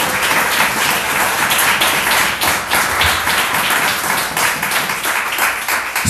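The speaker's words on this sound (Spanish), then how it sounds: "Denle un aplauso a la gloria de Jehová." Church congregation applauding during a sermon, a dense, steady wash of clapping that stays loud and sustained for the whole stretch with no talk over it.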